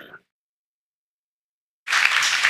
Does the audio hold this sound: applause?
yes